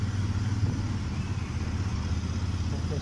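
A Super Meteor 650 motorcycle, a heavy 230 kg cruiser, drones along on a test ride with a steady low engine rumble and road noise, continuous and close.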